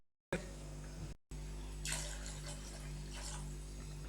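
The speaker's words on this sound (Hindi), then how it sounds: "यहाँ पे मैंने तकरीबन 2 गिलास के करीब इसके अंदर पानी डाला है" Water poured from a glass into a cooking pot of besan tangri curry, a steady splashing pour close by that runs for about three seconds after a brief pause, with no talking.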